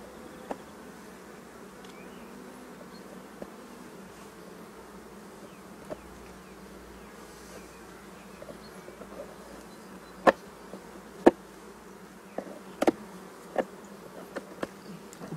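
Bees buzzing around an opened beehive during a spring hive inspection, a soft steady hum of many insects with occasional sharp clicks and knocks from handling the frames, and no talking.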